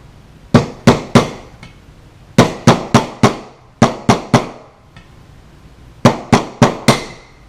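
A hammer strikes a punch to drive a spring-loaded pin out of a Lage MAX 11 MK 2 upper, sounding as sharp metallic taps in close, quick bursts of three or four, about fifteen blows in all with short pauses between groups.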